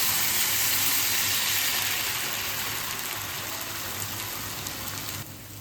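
Water and a prepared sauce pour into a pan of chicken, making a steady, fairly loud rain-like hiss and patter that runs without a break and drops away sharply near the end.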